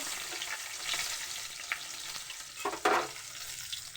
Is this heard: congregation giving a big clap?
no